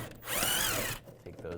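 A power drill fitted with a 7mm socket gives a short, close whirring burst while removing wheel well bolts on a 2015-2020 Cadillac Escalade, then falls back to faint handling noises.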